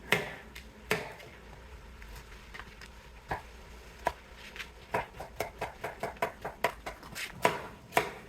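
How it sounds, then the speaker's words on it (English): Knife chopping the tops and bottoms off vegetables on a cutting board in a home kitchen, a series of quick close taps, irregular at first and then in faster rhythmic runs, with no talking. "Back to chopping these tops off and bottoms off."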